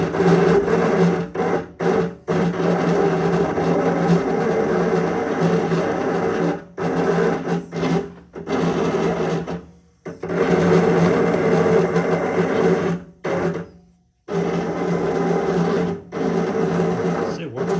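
Motors in a 4CX3000 self-tuning amplifier whir and grind in repeated bursts, each run broken by short pauses, with a steady mechanical buzz and some clicking.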